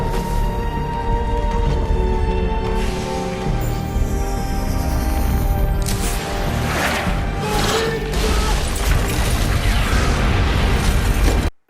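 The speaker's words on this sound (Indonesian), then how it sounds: "Naas, salah satu anak buah Mr. Zhang, berhasil memegang roket dan menembakkannya ke arah lab." A rocket strikes a laboratory in the 2014 film Lucy, setting off a sustained, dense blast under loud film score and rumbling debris, with several rolling bursts across the middle and end.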